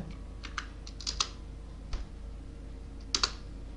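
Computer keyboard keys clatter in short scattered bursts, with a few sharper presses near the end like Enter being struck while working in a spreadsheet; close and fairly quiet, with no talking.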